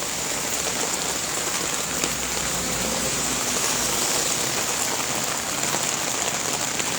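Heavy rain pouring steadily onto a flooded street, a dense, unbroken hiss of drops on surfaces, loud and constant throughout with no voices.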